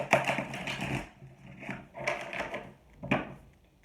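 A deck of tarot cards is shuffled close by, giving three separate bursts of crisp riffling and clattering with short quiet gaps between them.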